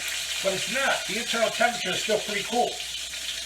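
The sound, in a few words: steak sizzling while pan searing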